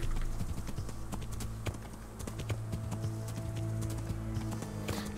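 Horse hooves clip-clop steadily in the medieval game Kingdom Come: Deliverance, a continuous rhythmic trotting beat with faint ambient tones underneath, no talking over it.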